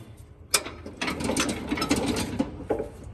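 A boat deck is lifted back onto its hanger with a sharp clank followed by a stretch of ratcheting, grinding mechanical clatter and a final knock, close by, no talk.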